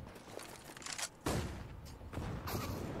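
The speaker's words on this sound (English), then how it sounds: "Frag grenade, a sign of things to come." Gunfire and explosive bursts from a Counter-Strike: Global Offensive match at a PGL Major esports event, with a frag grenade among the sharp, loud blasts and crackling shots heard over several seconds.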